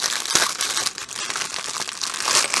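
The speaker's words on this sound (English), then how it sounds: "A lot of crinkling in this video." Plastic packaging of a diamond painting kit crinkles close by in a steady, busy rustle with a few sharper crackling bursts across the whole stretch, no talking.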